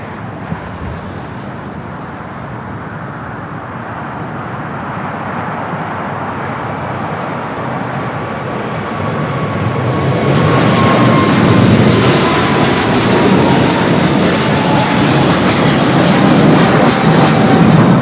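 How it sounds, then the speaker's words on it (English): A China Southern Cargo Boeing 777 begins its takeoff roll at LAX, its engine roar building from a steady distant rumble into a loud, broad, sustained thunder that dominates the scene. "The 25 at left has the China Southern Cargo 777. Now started its roll."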